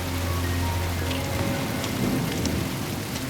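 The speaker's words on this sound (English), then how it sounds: "It's because it's freezing and raining." Steady rain falls in cold, freezing weather, an unbroken close hiss with a faint low rumble underneath early on.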